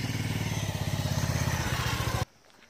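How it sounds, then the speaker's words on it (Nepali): A motorcycle ridden near Kathmandu putters with a fast, even engine pulse, close and steady for about two seconds before cutting off abruptly. "हामीले चाहिँ यहाँ बाइक लुकेर जानु लाग्छ अब"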